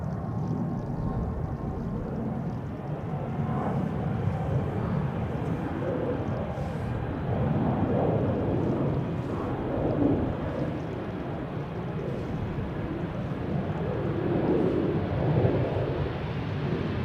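An airliner departs Amsterdam Schiphol Airport with a sustained, loud, broad jet roar that stays close and swells slightly as it goes.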